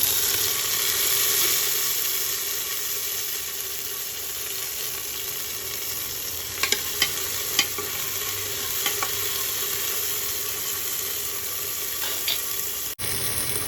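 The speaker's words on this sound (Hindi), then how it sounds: "हल्का हल्का प्याज जल गया है, तो अब मैं टमाटर डालूँगी एंड मिक्स करूँगी।" Onion and tomato fry in a pan in a home kitchen, a continuous bright sizzle with occasional scraping clicks of stirring, close and steady with no talking.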